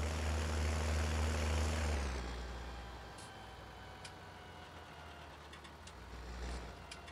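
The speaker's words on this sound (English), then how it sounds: "I kind of like the engine sounds" A video game vehicle's engine drones loudly with a low steady hum for a couple of seconds, then drops to a quieter idle with faint clicks and a slight swell near the end.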